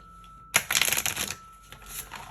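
Tarot cards shuffled by hand in a close, brisk burst of riffling and flicking that starts abruptly after a quiet moment, then settles into softer card rustles toward the end.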